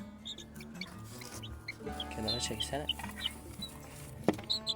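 A broody hen clucks in a cage, soft low clucks and a few sharper calls scattered through a quiet scene, with a person speaking briefly nearby and a sudden knock near the end.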